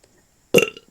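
One short, loud, close burp bursts out of near silence and fades quickly.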